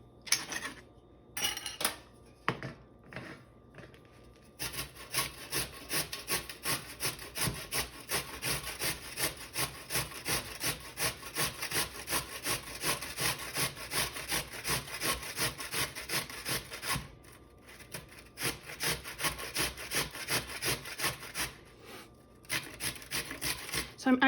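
Food rasps against a hand grater in fast, rhythmic back-and-forth strokes, close and fairly soft, with a few separate scrapes at the start and a short pause near the middle.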